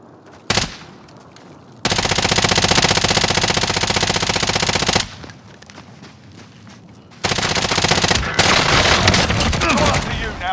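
Small-caliber automatic gunfire in Call of Duty Modern Warfare, two long sustained bursts of rapid shots, loud and dense, separated by a quieter gap, with a single sharp shot near the start.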